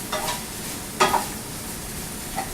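Chorizo cooking in its own oil with onions and potatoes in a pan, making a close, continuous sizzle with a couple of brief scraping stirs, alone without talk.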